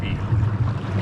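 A Bixpy J-2 electric outboard motor runs at high speed on an inflatable paddle board or kayak, a loud continuous low drone mixed with wind and water noise, heard up close.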